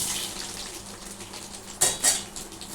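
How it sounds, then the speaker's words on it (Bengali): Raw rice fries in a pan for jeera rice with a soft, steady sizzling hiss, broken by two sharp metallic clinks of a utensil against the pan near the end. "এই চালটাকে একটু ভালো করে ভাজবো।"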